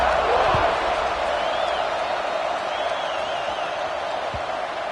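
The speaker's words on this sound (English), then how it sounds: "this crowd is buzzing after that last score" Steady, dense murmur of a large stadium crowd at a college football game, a broad roaring buzz holding level throughout, with faint scattered whistles and a couple of dull thumps.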